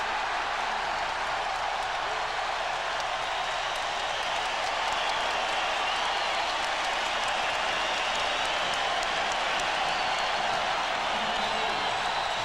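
A packed basketball arena crowd applauds and roars during a Bulls vs Pacers playoff game, a steady, dense wash of clapping and cheering at moderate distance that holds for the whole stretch.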